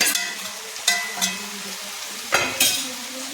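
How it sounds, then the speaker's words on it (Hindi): Chutney is stirred into potatoes and soya in a hot pan, producing a gentle sizzle and several distinct scraping strokes of a spoon against the pan, close and unaccompanied by talk. "इसको चला देंगे। चटनी डाल के 2 मिनट तक चला लेंगे"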